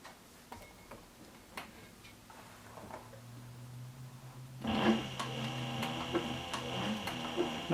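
A sewing machine set up for lightweight work stitches a leather purse, first a few scattered ticks and clicks, then a steady close mechanical whirring run of stitches with a faint hum, with no voices.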